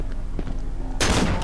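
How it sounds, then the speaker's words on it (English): A shotgun fires in the horror video game Cry of Fear, a sudden loud blast about two-thirds of the way through after quieter game ambience. "I'm gonna waste my shotgun bullets."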